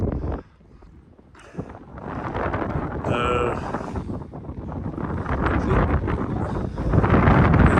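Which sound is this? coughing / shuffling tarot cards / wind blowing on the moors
wind blowing on the moors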